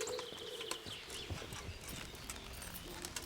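A horse's hooves clip-clop steadily on hard ground in Kingdom Come: Deliverance, with a whinny mixed in, close and continuous over background ambience.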